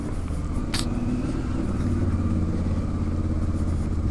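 Offroad motorcycles on a Northern Greece trip pull away from a hotel in a village, a steady engine drone with a brief higher rasp early on, close and continuous with no talk.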